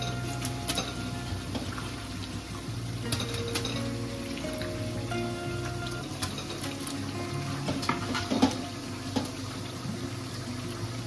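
Four kilograms of mutton going into onions frying with spices, a soft bubbling sizzle under scattered clinks and scrapes of a utensil stirring the pot.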